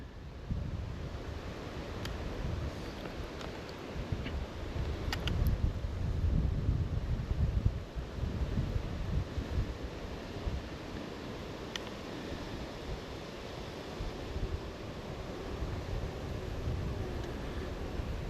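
Steady wind gusting outdoors, a broad low rumble buffeting the microphone continuously, swelling slightly in the middle and easing toward the end.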